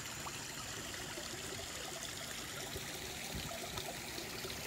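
A garden waterfall spills and trickles into a koi pond beside a pine tree, a steady broadband rush of running water that carries on unbroken, with no voices.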